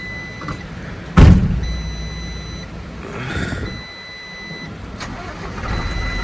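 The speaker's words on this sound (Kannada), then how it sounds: "ಗಾಡಿನ ಸೆಲ್ಫ್ ಹೊಡಿಬೇಕು. ಯಾವ ಥರ ಸ್ಟಾರ್ಟ್ ಆಗುತ್ತೆ ನೋಡಿ." Truck engine self-started in cold weather on a mountain road: a sharp starter crank and catch, followed by a rough idle running steadily with faint beeps in the background.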